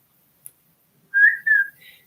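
A short human whistle, two bright sustained notes and a softer trailing one, clear and close with no talking.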